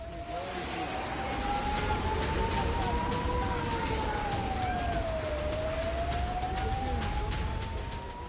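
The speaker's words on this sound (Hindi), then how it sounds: "सीमा से सटे इलाकों में लगातार सायरन बजते रहे।" An air-raid siren wails steadily in a border area during an attack, its pitch slowly rising, then falling and rising again, heard from a distance over a constant background rumble.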